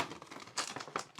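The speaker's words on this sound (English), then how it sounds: "we'll slice down the clamshell here" Plastic clamshell packaging around Klein screwdrivers being sliced open, a short crinkly crackle with a couple of sharp plastic snaps, close and fairly quiet.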